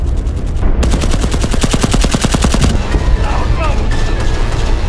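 Rapid bursts of automatic gunfire in a video game rattle loudly for a couple of seconds, then give way to scattered game sound effects and noise.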